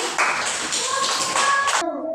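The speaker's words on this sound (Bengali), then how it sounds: "জানাতের জন্য হাততালি" A small group claps for a child during a preschool number lesson at home, a short burst of light hand claps lasting under two seconds, fairly close and moderately loud, ending abruptly.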